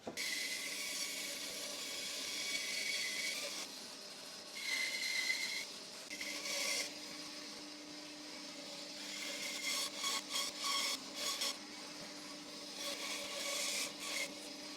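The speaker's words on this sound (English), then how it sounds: "So the next thing to do is to actually cut out the shape of the guitar." Wood being cut with a saw or rasp to shape an electric guitar body, rough scraping strokes in bursts with short pauses, fairly faint and close.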